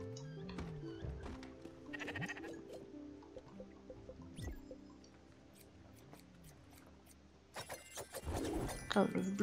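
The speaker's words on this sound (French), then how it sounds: "j'ai pas fini de m'occuper de mes moutons" Sheep in the video game Spiritfarer bleat several times in short wavering calls, mixed with soft dripping and squishy game sounds and a burst of brighter interface noise near the end.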